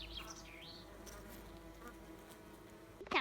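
Honey bees hum faintly around a hive during an attempt to combine it with a swarm, a soft continuous drone with a brief chirp near the start and a short louder knock at the very end.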